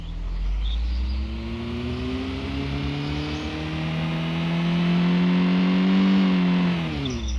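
A Lada Niva Street Pro drives along with a steady engine drone, and the revs rise smoothly partway through before easing off near the end. The sound is close and continuous, with no talk.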